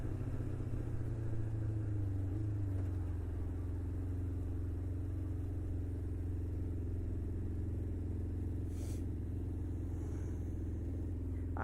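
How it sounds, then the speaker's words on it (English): Expressway traffic heard from a motorcycle during a ride: a steady low engine drone and wind rumble, with a brief whoosh of a passing vehicle near the end and no talking. "I hate this traffic."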